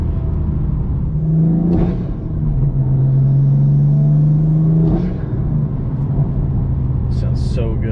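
A turbocharged BMW M4 engine revs up and drops on gear changes, two clear shifts in a steady roar, with a brief intake whoosh near the end.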